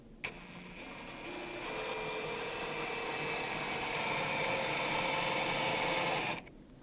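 A power driver runs a bridge screw into a DIY Telecaster-style guitar kit body, a single steady whirring drone lasting about six seconds before cutting off.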